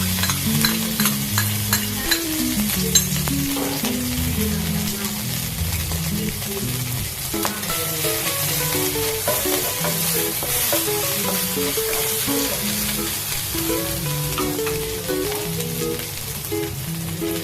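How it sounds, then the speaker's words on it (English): Garlic and anchovies stir-frying in a pan while cabbage with carrot is being prepared: a loud, continuous sizzle with frequent scraping and clinking from the stirring utensil throughout. "Stir fry the garlic and anchovies."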